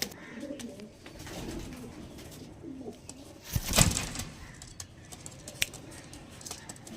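Black diamond pigeons coo softly, with one louder burst of sound near the middle set against faint background rustle.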